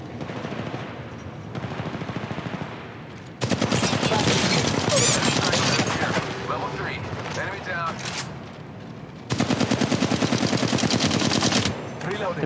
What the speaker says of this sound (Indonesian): itu ada suara tembakan, artinya ada musuh